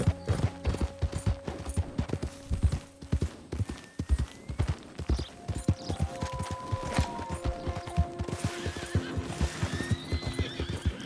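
Wild horses in Red Dead Redemption 2 galloping with rapid, heavy hoofbeats, broken by several neighs and whinnies, fairly close and loud with no talking.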